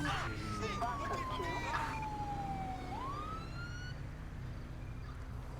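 A police car siren wails in the LSPDFR video game, one long falling tone that then sweeps back up, loud over steady engine and road noise.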